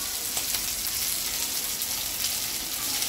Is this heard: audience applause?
no